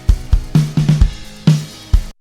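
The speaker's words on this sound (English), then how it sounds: "Listen to the vibe of these snare hits." Snare drum hits from a recorded drum track, about eight sharp, punchy strikes in a loose, human-feel rhythm with some quick doubled hits, close and loud, each with a short ringing body, alone without talk.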